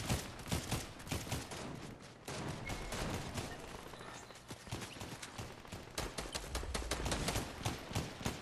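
Rapid, dense bursts of gunfire from a squads match in a video game, loud, near and almost continuous, with overlapping shots and brief dips between volleys.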